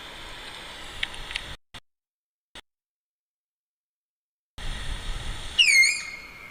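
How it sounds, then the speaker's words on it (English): A recorded Malayan tapir call plays as a high, thin whistling squeal near the end, rising and wavering over faint hiss, with brief gaps of silence before it. "This is what a tapir sounds like."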